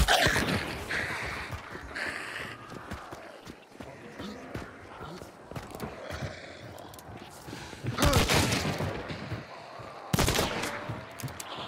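Pistol fanning in the frontier shooter Hunt: Showdown, heard as scattered gunshots with two loud bursts standing out near the end while a person talks excitedly over much of it.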